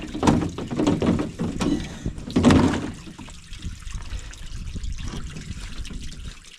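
Water runs from a hose into a cattle trough outdoors, a soft uneven trickle and splash that sounds louder and busier at first, then settles into a quieter steady dribble.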